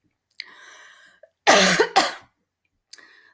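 Two sharp, close coughs in quick succession after swallowing the wrong way, bracketed by softer throaty vocal sounds before and after.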